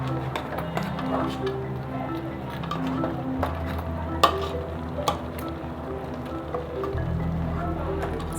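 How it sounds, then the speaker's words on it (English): A spoon stirs boiling fish stew in a pot during a catering class, soft scraping and bubbling with a few sharp clinks against the pot, steady and close amid background hum. "Make sure that as you are stirring, you do not mash up the fishes."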